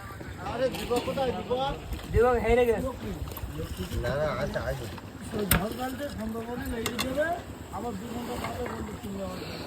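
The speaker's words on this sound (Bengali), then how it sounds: "আরো একটি নৌকা আসছে ওখান থেকে।" A boat comes in toward a riverside landing in the dark, in the Sundarbans, beside a landing where fish are being unloaded. A steady low motor-like rumble runs throughout beneath ongoing close-up speech.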